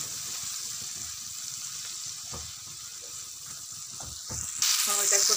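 Chopped onion, tomato, salt and turmeric sauté in oil, a soft steady sizzle with light stirring taps that jumps to a louder, brighter hiss near the end.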